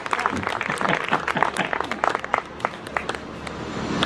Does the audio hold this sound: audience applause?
yes